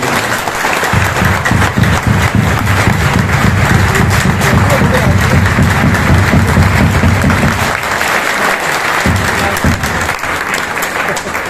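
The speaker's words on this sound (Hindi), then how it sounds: "मैं एक बार चाहता हूं कि आप लोग अपने लिए तालियां बजाएं" Audience clapping at a large seminar hall gathering, loud sustained applause from many hands, with a rhythmic low beat running beneath for much of it before the clapping continues alone.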